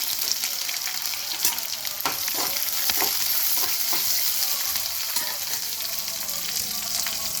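Curry leaves and thinly sliced onion fry in hot oil, giving a steady, close sizzle with faint stirring clicks and scrapes in the pan.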